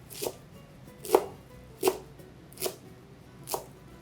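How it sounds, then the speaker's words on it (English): A knife chops through balled-up kale leaves on a cutting board in five distinct, evenly spaced strokes, each a crisp, close thud, with no talking. "Ball it up and start chopping."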